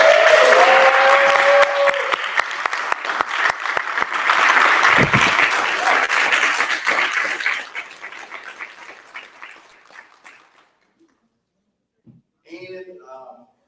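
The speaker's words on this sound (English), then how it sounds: "give a round of applause for all our" An audience at a Martin Luther King Commission town hall symposium breaks into loud applause, with cheering voices mixed in, that tapers off after about eight seconds, followed by silence and then a few scattered sounds.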